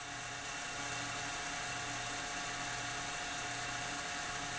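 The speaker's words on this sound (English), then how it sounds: "right now the motor is turning way too fast" A DC motor in an electrical generator lab spins at excessive speed, giving a loud, steady, high-pitched whine and hum that holds constant throughout with no voices.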